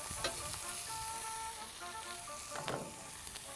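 Steaks sizzle quietly in a hot cast iron pan inside an Alfa pizza oven, a soft steady crackle with a few brighter pops and a faint tonal hum in the background.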